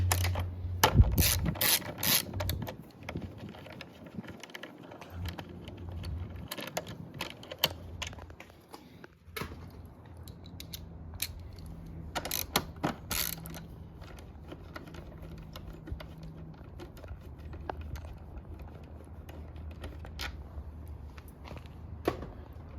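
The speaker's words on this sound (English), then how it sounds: "You're gonna grab your 10mm socket, remove these 2 right here." A 10mm socket on a ratchet working bolts loose on a 2022 Yamaha YZF-R7 during a taillight install, with bursts of close clicking pawl ratcheting and small metallic handling noises at a quiet level.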